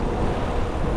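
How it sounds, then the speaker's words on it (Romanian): Steady wind rushing over a microphone while riding a mountain bike downhill on a cross-country ride through Budești, a continuous loud broadband roar filling the whole second with no speech. "Bate vântul așa."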